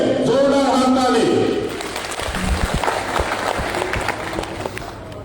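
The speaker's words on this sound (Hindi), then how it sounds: "हमारे सबसे प्यारा भाई मनोरंजन कुमार जी के लिए जोरदार हाथ ताली" Applause for Manoranjan Kumar at a labour union rally, broad and steady under a loudspeaker voice that keeps talking over it before the clapping carries on alone.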